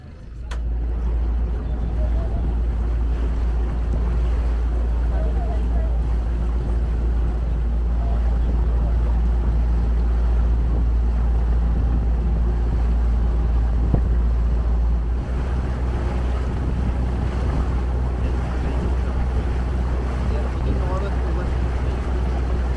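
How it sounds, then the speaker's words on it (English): A small ferry boat on the sea near Falmouth and St Mawes carries a constant, heavy low engine rumble with wind buffeting the microphone and water wash throughout, and a slight change in tone partway through. "It's called a ferry, but it's a little boat."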